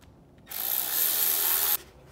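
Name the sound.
tightening the air filter clamp on a Banks ram air intake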